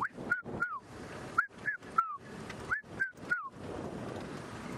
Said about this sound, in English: Can hear a lot of birds calling.